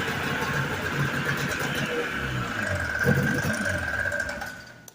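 A Yamaha Excel III 340cc snowmobile engine runs close by with a steady buzzing drone, briefly swelling in revs before fading toward the end.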